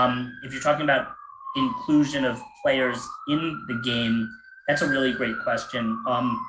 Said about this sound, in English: Sorry for the sirens in the background.